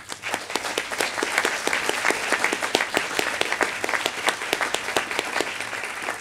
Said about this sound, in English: I ask you to join with me in giving him a round of applause.